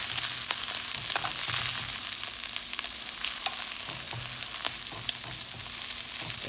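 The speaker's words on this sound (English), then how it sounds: "Put about a half a cup of onion in there. And stir it up real good." Half a cup of onion sizzles steadily in a hot pan for shrimp fried rice while a utensil stirs it, with scattered clicks and scrapes over a constant frying hiss.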